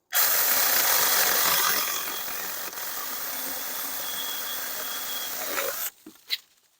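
A NaTiddy mini chainsaw cuts through 3-inch thick pine: a loud, close buzzing whine that bogs slightly under load for several seconds, then stops abruptly, followed by a couple of faint knocks.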